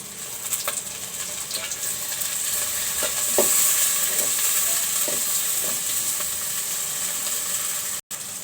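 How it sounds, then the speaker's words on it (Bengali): Onions fry in a pan ahead of dried fish for a potato mash dish, giving a steady broadband sizzle with scattered utensil clicks and stirring scrapes throughout, one brief dropout near the end. "তো আমি এখন পেঁয়াজটা একটু ভাজতেছি"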